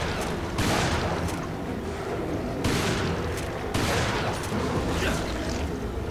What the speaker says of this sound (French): Alors, on va sortir le fusil à pompe.